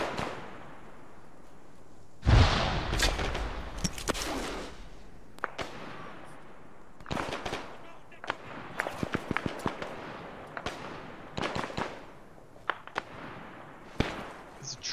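Gunfire in a war video game set at the Third Battle of Kharkov: scattered sharp cracks and pops, some in quick clusters, over a faint background rumble, with one heavier blast near the start.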